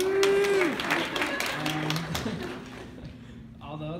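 Applause from an audience at a spring break testimony gathering: a dense, steady wash of clapping that fades somewhat toward the end, mixed with a few voices and whoops.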